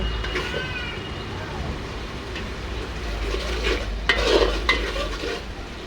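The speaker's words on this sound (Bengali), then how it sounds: "দেখুন আমার মশলাটা ভালোভাবে কষানো হচ্ছে" Spice paste for goat head curry sizzles in a pan while being stirred, with steady frying hiss, occasional scraping and utensil knocks near the end.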